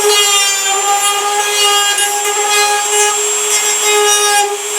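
A steady, loud rasping scrape runs continuously while the surface of a Craftsman lawnmower hood is smoothed for repair, with a bright ringing whine riding over the rough strokes and no talking.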